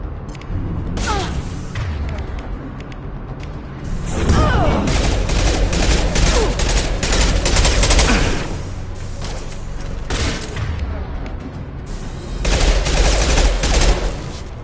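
Sustained gunfire in a Mass Effect 2 combat fight, dense bursts of automatic shots and thumping impacts that surge loud in waves, with brief lulls between heavier volleys.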